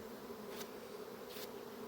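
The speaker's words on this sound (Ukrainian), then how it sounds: "Ну Ось бачите, льотної бджоли багато, злітає" Constant low buzzing of many honeybees flying at a hive entrance, with two brief soft swishes passing close by.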